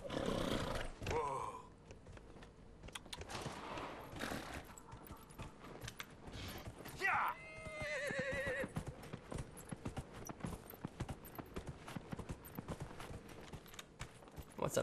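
Horse in the Dragon Age Inquisition video game, with steady clip-clop hoofbeats and a loud whinny partway through, under game ambience.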